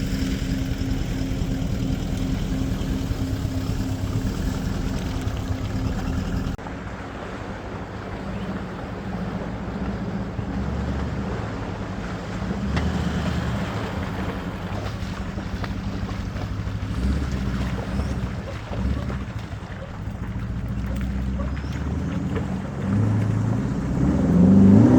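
An off-road vehicle crossing a river, heard as a steady engine drone mixed with wind buffeting the microphone, shifting in tone partway through and swelling slightly louder near the end.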